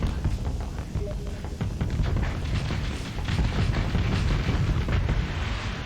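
Rockets bursting in a Starsector space battle, a dense continuous barrage of booming explosions and crackling blasts that swell and rumble loudly throughout, with no voices.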